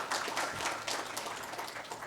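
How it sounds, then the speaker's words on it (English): Audience applause at an HR management congress and awards panel session, a faint, even wash of many hands clapping steadily from a distance. "a huge round of applause for the fraternity"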